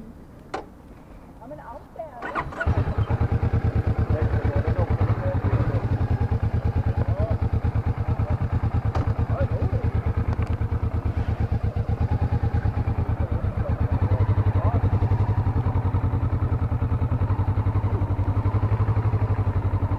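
A Kawasaki Vulcan S motorcycle engine starts up and runs steadily at close range, a loud continuous mid-pitched drone with a rhythmic pulse, while people talk over it.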